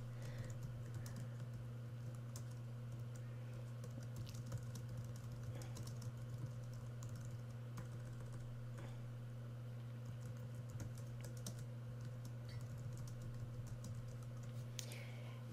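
Someone types a message on a computer keyboard: faint, quick, irregular clicks sit low beneath a steady, loud electrical hum that runs from start to finish.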